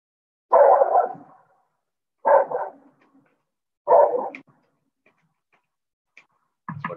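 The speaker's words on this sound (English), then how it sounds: "It's my guard dog, barking and everything" A guard dog barks three times in loud, evenly spaced single barks with quiet gaps between, followed by a short burst of fainter sounds at the end.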